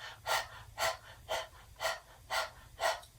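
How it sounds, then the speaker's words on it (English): Six rhythmic panting breaths during Kundalini yoga practice, dog-like huffs at an even, moderate pace about half a second apart, close and breathy with no talking. "we're going to pant like a dog"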